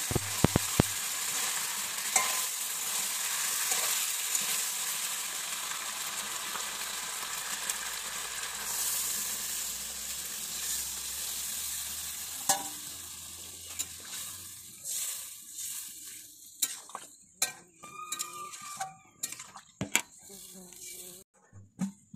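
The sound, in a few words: water added to sizzling chicken and taro curry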